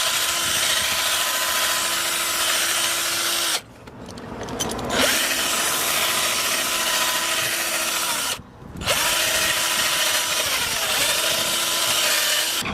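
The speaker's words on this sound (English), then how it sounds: "now let's drill this baby out" A power drill bores holes for a TRD rear lip on a Lexus IS300, whining loud and close in long steady runs broken by two short pauses where the motor stops and spins back up.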